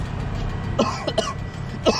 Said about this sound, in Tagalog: Ako inuubo na.